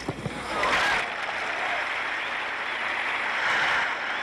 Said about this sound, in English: They applaud when the same linesman calls that ball out